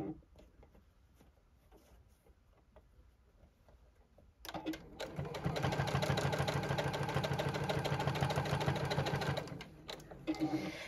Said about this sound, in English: And that's why I sew in shorter spurts.